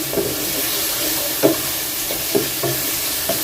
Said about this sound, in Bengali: এখন একটু লবণ দিয়ে এটা আমি ভালোভাবে কষাবো